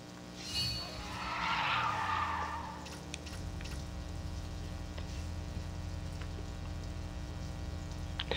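Race cars in the mobile racing game NFS No Limits, including Porsches: a tire screech and engine roar swell then fade, followed by a steady low engine drone with faint clicks.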